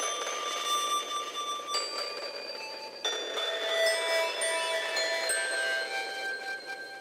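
Bell-like synth tones run through Ohmicide feedback distortion, ringing sustained notes that shift pitch every second or two while the feedback swells and fades around them, steady and clear with no voices.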